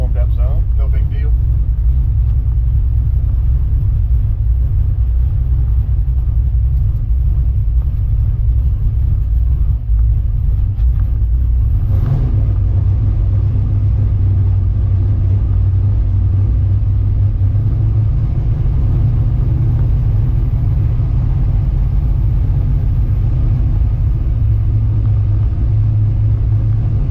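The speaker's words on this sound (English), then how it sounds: "I'm gonna make a little lap around the track, just get the truck warmed up some." A 1972 Dodge D100 pickup's engine rumbles steadily while driving a slow warm-up lap around a drag racing track, a constant low drone with a brief shift in tone midway.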